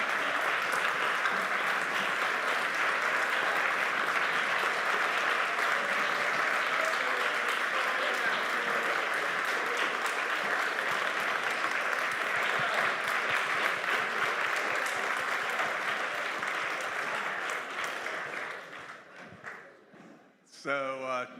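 Sustained audience applause at the close of a creation-versus-evolution debate, a dense crowd clapping steadily for about eighteen seconds before fading out into a few scattered sounds.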